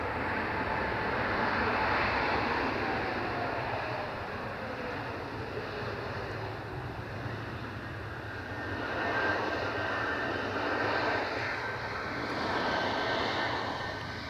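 An aircraft lands and rolls out at Edinburgh Airport, a broad steady engine roar at moderate distance that swells and eases over the whole stretch.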